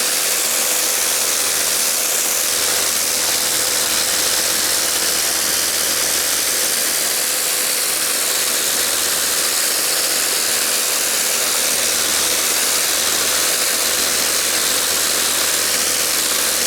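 Karcher K7 Premium Smart Control pressure washer cleaning a patio, a steady loud broadband hiss of spraying water over a constant motor drone, continuous and unbroken for the whole stretch, with no talking.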